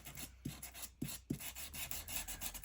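An envelope file folder gets its edges sanded, a close dry rasping rub in short strokes with a few sharper scrapes, heard alone with no talking.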